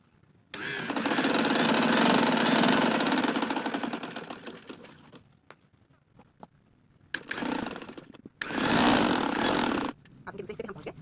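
A sewing machine stitches elastic into trousers. It gives one long, loud whirring run, then shorter bursts after pauses, heard close-up and alone.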